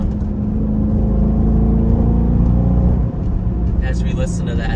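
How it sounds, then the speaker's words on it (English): Dodge Durango R/T with its Hemi V8 engine revving, a steady loud engine drone running throughout, with a brief dip near the three-second mark and some higher whirring toward the end. "As we listen to that Hemi."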